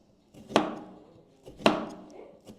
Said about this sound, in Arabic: يلا بينا بقى كده ايه نقطع الاناناسه